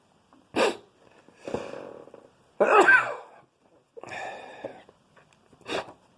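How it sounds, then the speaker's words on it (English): A person sneezes and coughs several times in short, separated bursts, close by, with quiet gaps between each explosive outburst. "that's why I'm sneezing"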